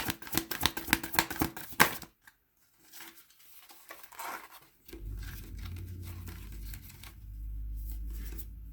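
Oversized tarot cards are shuffled, making about two seconds of rapid, close papery flapping and clicking, followed by near quiet and then a low background rumble.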